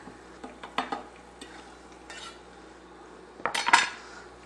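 Garlic is stirred in hot oil in a pan over low heat for penne alla vodka, with soft scattered utensil clinks and scrapes against the pan and a faint sizzle.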